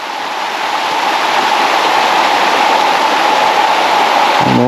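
A loud, dense roar of falling water surrounds a spot on a ledge right in the stream below a waterfall, constant and close with no voices.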